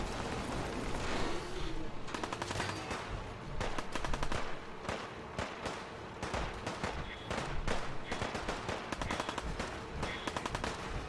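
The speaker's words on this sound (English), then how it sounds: "The cannons are ready. Fire at will." Cannons firing aboard the USS Constitution in Fallout 4, a rapid run of loud, sharp blasts and gunfire-like bursts packed closely together over a dense, steady din of battle.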